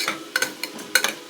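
Sautéing in coconut oil in a pan for ghee rice: a soft continuous sizzle punctuated by quick, close scrapes and clinks of a spoon stirring.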